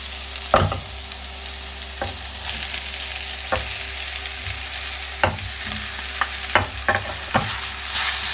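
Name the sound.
stirring and frying mashed potatoes with spices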